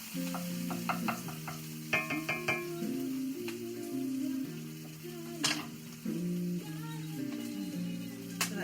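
Mushrooms and onions frying in a pan give a quiet, steady sizzle, broken by scattered clinks and scrapes of a utensil against the cookware, close by with no talking.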